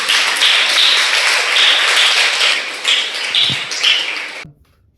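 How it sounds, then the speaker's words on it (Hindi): A church congregation at a Hindi sermon claps loudly and continuously in dense, rapid applause for Jesus, close and sustained for about four seconds before cutting off abruptly into silence. "क्यों ना यीशु मसीह के लिए जोरदार तरीके से तालियां बजाएंगे।"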